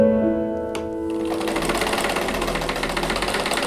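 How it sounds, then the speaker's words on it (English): Sewing machine stitching pieced quilt block rows together, starting after a brief tonal hum and then running steadily with a fast, even rhythmic chatter that stays close and loud. "I'm going to press all the seams and then sew the rows together."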